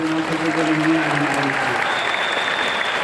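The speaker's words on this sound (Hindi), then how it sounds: "एक जोरदार तालियां" Loud applause from an audience at a DXN business meeting, a thick, sustained wash of clapping with faint voices underneath and a thin tone running through the latter half.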